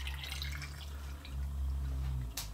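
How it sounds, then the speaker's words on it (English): Water poured into a rock tumbler barrel over stones, a steady close trickling and dripping under a low hum, with a brief splash near the end. "just cover them with water."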